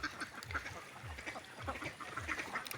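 Ducks kept in confinement on a duck farm quack repeatedly in a busy, overlapping chorus, moderately near and with no talk over them.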